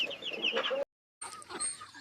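Cornish cross meat chickens clucking close by outdoors on a drizzly day, short bursts of soft clucks and calls, with a brief gap of silence in the middle.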